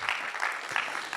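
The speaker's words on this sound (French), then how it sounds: "mais qu'on va applaudir quand même" A short burst of steady clapping from a seated conference audience, the hand claps blending into an even patter with slight surges.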